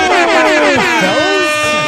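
A loud, sustained air horn blast with wavering pitch sweeps, close and harsh, lasting the full couple of seconds.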